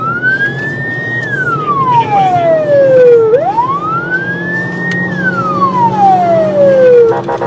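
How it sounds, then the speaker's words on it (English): Police car siren during a high-speed chase, a loud, close wail sweeping slowly up and down in long cycles over a steady background of traffic. "They hit their sirens, expecting the driver to slow."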